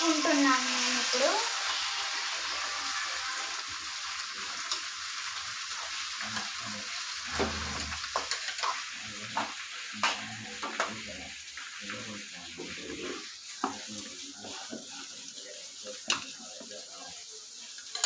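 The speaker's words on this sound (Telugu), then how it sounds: "ఒక 10 to 15 minutes వరకు మనం ఇలా ఫ్రై చేస్తాము." Food frying and being stirred in a pan, a continuous sizzle with repeated spatula scrapes and clinks over eighteen seconds, while a person talks at times.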